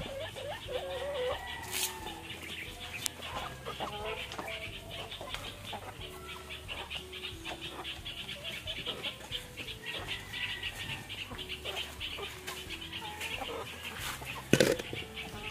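Backyard pet chickens cluck and murmur continuously at close range, with short calls scattered over a steady farmyard background and one sharper knock near the end.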